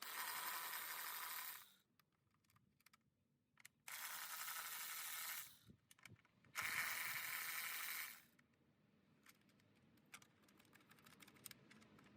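Ratchet loosening bolts on a Honda engine cover during a PCV valve replacement, heard as three sustained bursts of dense mechanical clicking separated by quiet pauses with faint handling noises.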